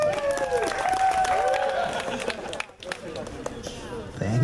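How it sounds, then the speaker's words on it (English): An audience at a comic con cosplay contest claps for a Captain Marvel cosplayer, a moderate round of applause mixed with crowd chatter and a voice talking, tapering off near the end. "Round of applause for Captain Marvel"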